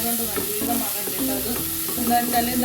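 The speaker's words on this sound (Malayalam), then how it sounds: "ഇതിലേക്ക് തന്നെ നമുക്ക് ചെമ്മീൻ ഇട്ട് കൊടുക്കാം" Fresh prawns sizzle and fry in a pan, with a bright continuous crackle and repeated scraping taps as they are stirred, loud and close.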